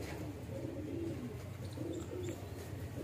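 Soft, low cooing from a Lal Chandna Magpie pigeon close by, a few throaty murmurs over a faint background hum.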